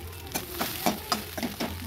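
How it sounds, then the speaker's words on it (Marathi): Soaked khichdi frying in a pan with chillies and crushed peanuts, a steady close sizzle broken by several soft scraping stirs of a spoon at irregular intervals. "आणि खिचडी चांगली परतून घ्यायची."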